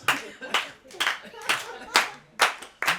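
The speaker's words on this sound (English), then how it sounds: "So you can clap along like this" A listening audience at the Denman Island Guesthouse clapping along in unison, a loud, even beat of sharp group claps about twice per second with no voices over it.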